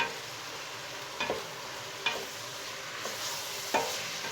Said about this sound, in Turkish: Evet salçam da güzel kavruldu. Şimdi domatesimi de ekleyeyim.